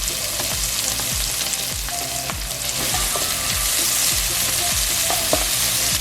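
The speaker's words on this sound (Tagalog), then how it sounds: "mag-heat lang tayo ng cooking oil. And then isasaute lang natin yung garlic." Garlic sautéing in hot cooking oil for a Filipino chicken afritada, with a loud, continuous sizzle broken by repeated scraping stir strokes, close and without talk.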